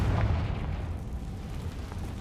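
A Confringo blasting spell from the video game Hogwarts Legacy lands as a deep, rumbling explosion that booms loudly at first, then fades into a rolling low roar.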